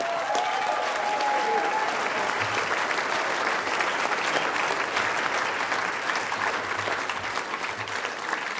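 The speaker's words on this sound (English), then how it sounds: "Give him a round of applause." Audience at a 2013 Labor election-night speech breaking into loud, sustained applause, a dense continuous roar of clapping that holds strong across the whole stretch.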